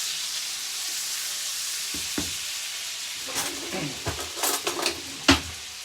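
Butter sizzling in a frying pan for cod, a constant crackling hiss close by, with scattered clinks and scrapes of a utensil against the pan in the second half.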